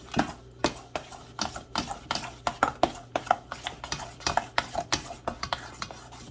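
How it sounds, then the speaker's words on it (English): A spoon stirs vegan crab cake ingredients in a bowl, producing a steady series of close, sharp scraping taps at a brisk, fairly even rhythm. "we just want to mix everything together."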